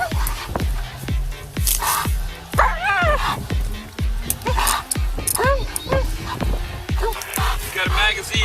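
A police K-9 barks and yips rapidly and loudly, close by, during a sheriff's deputies' arrest of a fleeing suspect, with officers shouting over the repeated barking.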